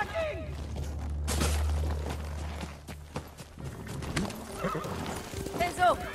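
Horses galloping and neighing in Ghost of Tsushima during a Mongol attack on a village, with a rushing rumble of hooves, a couple of sharp whinnies and game voices talking between them.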